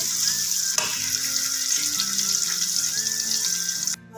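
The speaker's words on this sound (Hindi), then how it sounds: "उसके बाद हमने इसमें प्याज डाल देंगे और इसको हमने डार्क ब्राउन करना है।" Onions sizzle and fry in hot oil in a pan for a beef gosht dish, a steady close crackling hiss throughout, with a brief clatter near the end.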